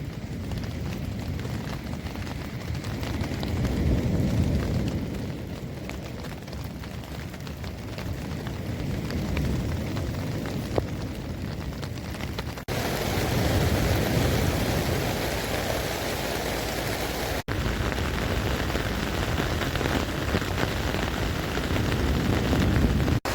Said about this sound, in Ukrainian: Знову пішов дощ, заливає.